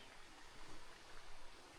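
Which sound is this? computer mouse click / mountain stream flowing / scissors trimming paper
mountain stream flowing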